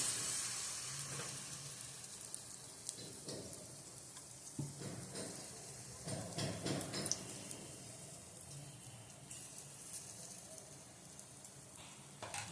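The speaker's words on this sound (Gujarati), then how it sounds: "આપણું તેલ મસ્ત તપી ગયું છે. તો હવે આપણે એમાં 1 ચમચો ભરી અને બેટર નાખીશું." Spoonful of rice-flour batter dropped into hot oil in a Gujarati home kitchen, sizzling and crackling steadily for about twelve seconds with brief louder bursts and faint stirring noises, no talking.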